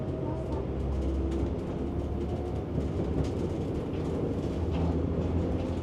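A diesel train pulls out of Wolfenbüttel station in Germany, heard from inside the carriage as a steady low rumble and engine drone with faint rattles throughout.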